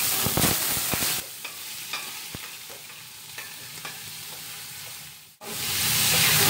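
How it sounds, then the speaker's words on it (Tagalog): Ground pork sizzles and crackles in hot cooking oil, a steady close hiss with stirring scrapes, then a sudden brief dip before the frying swells louder again; no talking. "Na ang mainit na yung mantika natin, lagay na natin yung ground pork."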